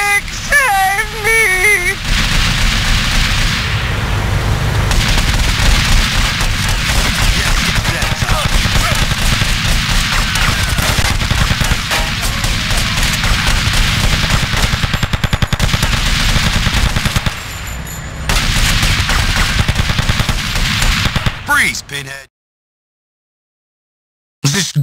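Sustained gunfire from a GTA Vice City Stories shootout, loud and dense for about twenty seconds as bursts run together, with some speech mixed in, then cutting out to silence near the end.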